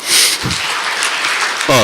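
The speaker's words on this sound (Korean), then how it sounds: "다시 한번 큰 박수 부탁드리겠습니다" Audience applause at a CEO forum on venture investment, a short burst of clapping from the room with voices speaking over it at the start and end.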